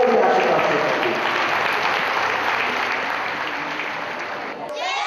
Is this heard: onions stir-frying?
no